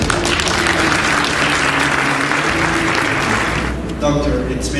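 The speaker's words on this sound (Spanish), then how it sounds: "por favor un aplauso grande para el doctor David Sara." Loud, sustained applause from a large audience at an orthodontics congress, continuous clapping filling the hall before fading slightly at the end, with voices emerging under it.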